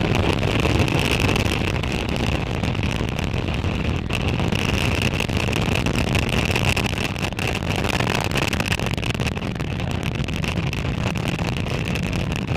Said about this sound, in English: Successful liftoff of Falcon 9 from Space Launch Complex in Florida